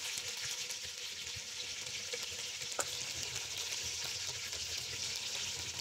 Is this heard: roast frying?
yes